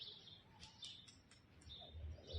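Pet birds give faint, high, scattered chirps and tweets over a quiet background, with no one talking.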